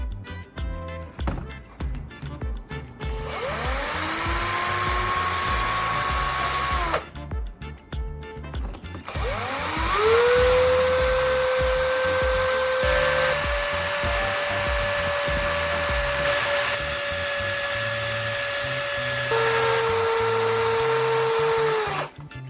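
A high-pitched electric drill whines continuously, spinning a battery core pressed against sandpaper, with rising and falling motor tones and a gritty grinding texture, pausing briefly twice before spinning up again.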